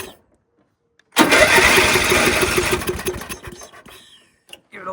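A riding lawn mower engine with a suspected fouled spark plug cranks loudly for about two seconds, sputtering without catching, then fades into quieter mechanical clatter and a brief silence.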